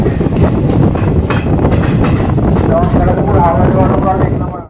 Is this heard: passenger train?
yes